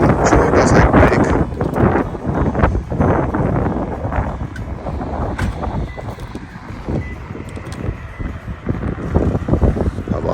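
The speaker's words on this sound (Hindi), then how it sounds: "हवा चल रही है काफ़ी।" Strong mountain wind gusts along a road near Chamonix, France, roaring and buffeting the microphone in loud, continuous broadband rushes that swell and ease without letting up.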